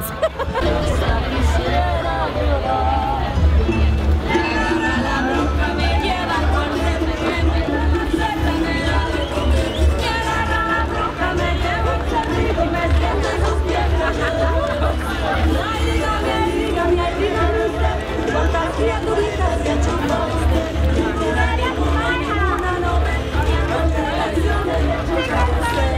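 Dense crowd chatter and babble fills a busy outdoor street at the Woodford Folk Festival, where puppeteers perform, a steady, close hubbub of many overlapping voices without a break.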